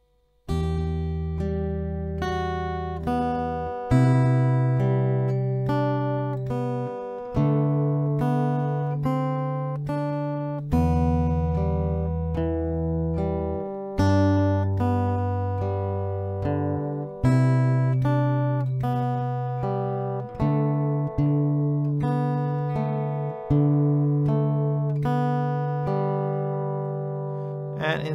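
Slow, unhurried acoustic guitar melody from a song, picked note by note with a steady, deliberate rhythm and ringing sustained tones, played close and clear with no voices.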